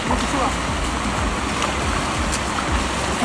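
Water at KP waterfall rushes in a steady, dense roar that fills the whole moment without any break, and rain is falling around it.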